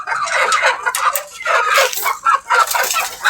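A small flock of three hens kept with a rooster clucks busily, close and loud, in a steady run of overlapping calls with no talking.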